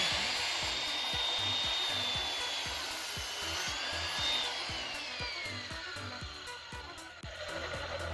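A Ryobi EMS190DCL mitre saw cuts through a wooden board with a high, whining motor and a rasping cut that runs through most of the clip, then the blade spins down.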